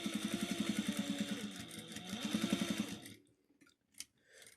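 A sewing machine stitches in rapid rhythmic bursts while free motion quilting a pot holder, two close, fast runs of needle clatter before stopping into near silence with small handling noises.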